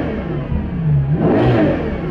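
Ferrari Purosangue four-wheel-drive SUV with its V12 engine revving: a short, loud, close blip rising in pitch then easing off, heard alone without talk.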